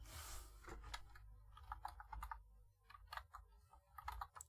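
Fingers type on a desktop computer keyboard at a Lenovo ThinkCentre A70 Pentium PC during an OS installation, soft irregular key clicks in short clusters, close and quiet.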